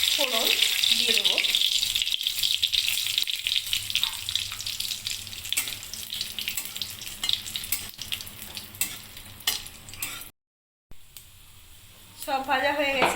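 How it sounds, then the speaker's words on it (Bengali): Bay leaf, dried red chili and whole cumin tempering in hot mustard oil in a heated kadai give off a steady, close crackling sizzle that runs loud and then fades, with brief voices near the end. "তেলের উপর তেজপাতা, শুকনো লঙ্কা, গোটা জিরে ফোড়ন দিয়ে দেব"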